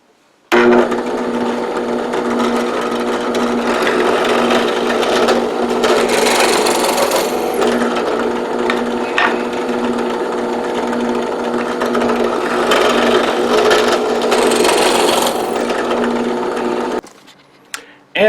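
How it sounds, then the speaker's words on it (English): A drill press runs with a steady, continuous whir, its countersink grinding and rasping into wood, unbroken for about sixteen seconds before cutting off abruptly. "this is just a quick jig setup on my drill press"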